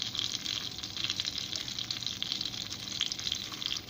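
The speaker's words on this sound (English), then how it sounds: "I have heated butter. To this I am adding garlic and also dry red chilies" Garlic and dry red chilies sizzle in hot butter for a dal tadka, giving a steady, soft crackling hiss with small irregular spatters throughout.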